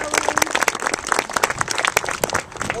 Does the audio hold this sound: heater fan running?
no